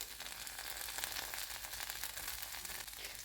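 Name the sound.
stuffed brinjal frying in oil on stove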